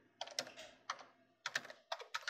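Keys clatter on a desktop computer keyboard as hashtags are typed, quick uneven bursts of close clicks separated by short pauses.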